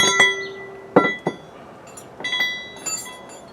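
Metal spanners clink and clatter during repair work on a Land Rover Defender 2.4 TDCi, a few sharp bright chinks and taps spaced irregularly, close by and fairly quiet, with no talking.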